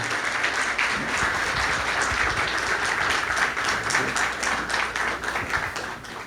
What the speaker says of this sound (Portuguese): aqueles que creem, dêem um aplauso aí a Jesus